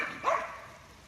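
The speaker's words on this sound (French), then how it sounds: "J'attends juste que les chiens passent." Dogs bark as they pass by outdoors, a single brief, fairly faint yelp-like bark rising then fading, with no talk over it.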